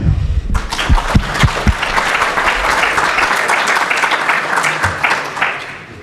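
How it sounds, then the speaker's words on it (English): An audience at the BalCCon hacker conference welcomes a speaker with applause, opening with a few loud, close individual claps before swelling into sustained, even clapping from the crowd that tapers slightly at the end. "give him a warm welcome and applause"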